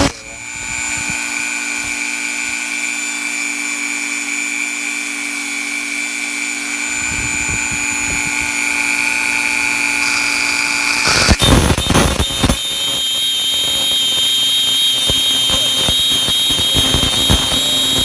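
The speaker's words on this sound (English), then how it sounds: "so it makes a little pocket and the drill doesn't wander around" A high-pitched electric drill whines steadily, then bites into metal with harsher grinding and rattling, loud and close throughout.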